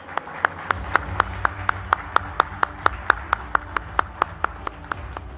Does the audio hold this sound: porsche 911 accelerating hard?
no